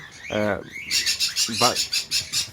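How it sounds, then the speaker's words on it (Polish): Parrots in an aviary give harsh squawks and chattering calls, some bursts close and loud, separated by brief pauses, with a person talking nearby between the calls. "zobaczcie jaka piękna papuga"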